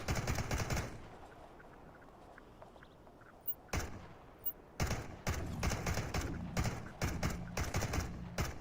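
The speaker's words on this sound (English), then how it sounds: "I hear gunfire." In-game gunfire from an online shooter crackles in bursts: an opening volley, a quieter stretch with scattered faint shots and footsteps, then repeated rapid automatic bursts close by toward the end.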